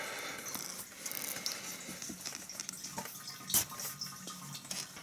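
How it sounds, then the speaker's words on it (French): Fuel drains from a motorcycle tank through its tap, a soft steady trickle and patter of liquid running throughout, fairly faint and close, with a few small clicks and knocks and no talking. "Et ensuite, tu laisses gentiment couler pour vidanger ton réservoir."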